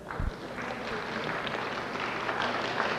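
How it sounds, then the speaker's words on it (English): Scattered applause from the audience at a banquet, moderate and steady clapping over room murmur, fairly faint and continuing through the short moment. "You can clap."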